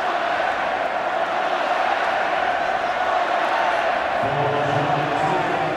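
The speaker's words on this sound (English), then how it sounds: "the crowd, you can start to hear the Australians" Australian fans in the stands at the 2003 Rugby World Cup final in Sydney, Australia versus England, cheering as a sustained distant roar, with a voice rising briefly near the end.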